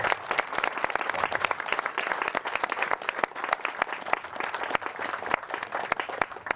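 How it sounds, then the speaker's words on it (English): An audience gives a big round of applause at a Windy Brodak gathering, a dense, sustained crowd clapping that fills the room evenly at steady loudness, with no voices standing out. "Could everybody else give them a big round of applause?"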